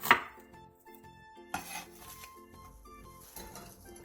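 A knife cutting one onion into thin strips on a board, faint repeated soft chopping taps running steadily along with a light scraping sound, close and quiet with no voices.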